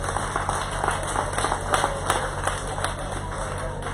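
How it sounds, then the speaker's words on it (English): Applause at an outdoor power line extension ceremony in St Andrew, a moderate, steady patter of scattered hand clapping from a crowd over a constant background hum. "Please give a round of applause for the drummers from Pittsburgh."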